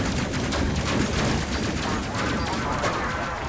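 Rifle fire aboard a ship in the Space Crew video game, a constant wash of rapid, crackling shots blurring into one loud, steady roar.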